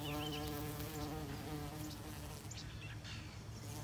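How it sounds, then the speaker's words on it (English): Bees hum and drone among blooming orchard trees, cherry among them, in a close, steady buzz that softens slightly toward the end. "An interlude of bees."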